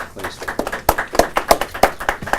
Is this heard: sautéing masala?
no